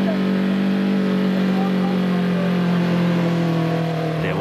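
Rally vehicles, including a Toyota Hilux, run along a sand dune stretch of the 1991 Toyota 1000 desert race, giving a loud, steady engine drone that holds a constant pitch throughout.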